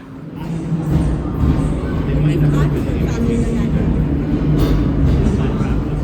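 Subway train ride toward World Trade Center in New York, steady rumbling and rattling of the moving car with a crowd murmuring and voices talking throughout.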